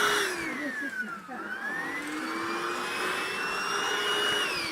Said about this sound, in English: this vacuum cleaner Hoover that we bought from Lidl